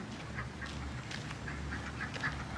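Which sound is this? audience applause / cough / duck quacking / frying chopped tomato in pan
duck quacking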